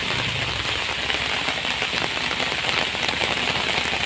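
Heavy monsoon rain pours down hard in Sindhudurg, Konkan, a dense, loud, continuous patter drumming on a surface close by, with no voices.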